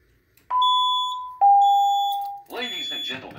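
Building fire alarm system under test, two long steady electronic tones in succession, then a voice announcement begins over the end.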